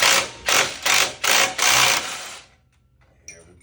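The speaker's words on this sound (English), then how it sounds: "Now we're on our flat spots and Jamie can rip the nut off." A wrench ratchets a nut off the filed flat spots of a snapped ball joint stud in a repeated burst of four or five loud grinding pulls, then a pause and a brief metallic tick.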